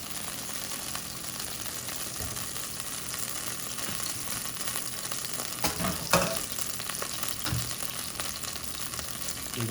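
Mongolian beef stir-frying in hot oil in a Chinese-style pan, a steady dense sizzle with scraping stirs and a few sharper clatters near the middle, close and loud throughout with no talking.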